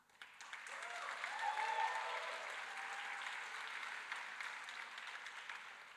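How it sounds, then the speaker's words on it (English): An audience claps steadily, swelling slightly then holding a sustained, moderately distant applause with no talking. "please clap really loud and hard"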